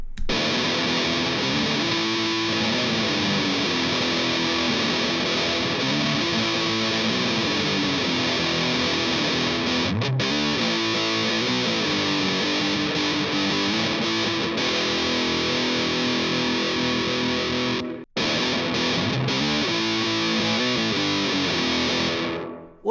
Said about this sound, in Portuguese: Vou colocar aqui um reverbzinho também.